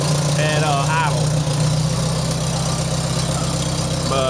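A 1973 IH Farmall 140 tractor engine, still a little cold, idles with a steady low rumble, loud and close, while someone talks over it.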